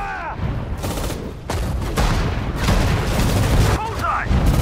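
Battle gunfire in the World War II strategy game Sudden Strike 4, set in the North African desert, with crackling rifle and machine-gun volleys and booming impacts under shouted unit voices.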